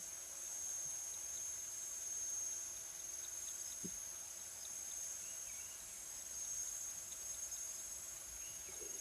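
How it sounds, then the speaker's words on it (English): A steady, faint high-pitched chirring of cicadas and other insects fills a quiet outdoor scene, constant throughout with no talking. "That's the sound of insects, the sounds of cicadas,"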